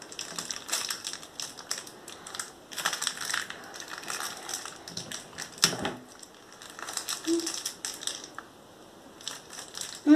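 Crinkly plastic packaging of a Grossery Gang toy being pulled and torn at close range, in bursts of scratchy crackling with short pauses between, quiet overall.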